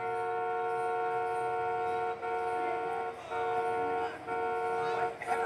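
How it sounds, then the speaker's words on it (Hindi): A car horn in GTA 5 sounds as one long, steady, sustained honk lasting the whole five seconds, loud and close, with faint background game noise beneath it. "जैसे कि मैं ई की को प्रेस कर रहा हूँ तो आप लोग देखिए हॉर्न बजेगा"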